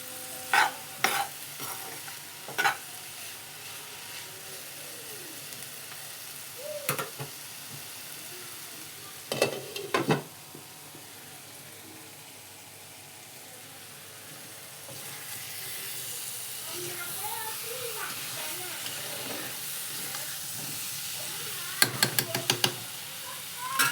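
Food fries and is stirred in a pan during home cooking of chicken fry: a soft, continuous sizzle with scattered sharp scrapes and clinks of a utensil, quiet and close, with no talking.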